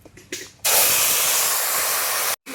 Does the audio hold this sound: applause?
no